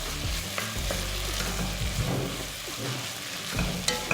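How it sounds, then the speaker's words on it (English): Beef being stir-fried in a hot pan, a loud continuous sizzle with the scraping of a utensil stirring the meat, close and steady with no voices. "I'm going to throw in my beef, our star for the day, and just give this another big stir."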